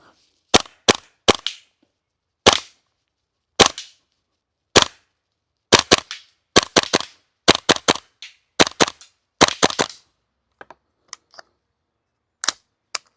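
A KWA Tac-9 airsoft SMG fires short bursts at close-range targets, sharp snapping shots in clusters of two to four separated by pauses, loud and near with no voices over them.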